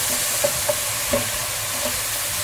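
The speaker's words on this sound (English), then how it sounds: "now I'm just going to flip that chicken over." Chicken pieces frying in a hot pan for a honey soy chicken salad, a steady close sizzle with a few soft knocks as the meat is turned and stirred.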